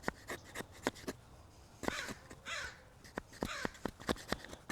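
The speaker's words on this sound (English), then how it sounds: "Sorry about that crow, guys." A crow caws repeatedly outdoors at a campsite, sharp harsh calls coming in irregular bursts, fairly close, alongside scattered knocks and taps from light wood batoning.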